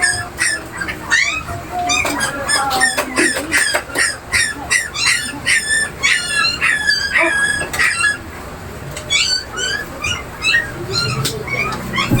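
A dog whimpers and yips in rapid high-pitched bursts, close and fairly loud, with a busy background and faint voices.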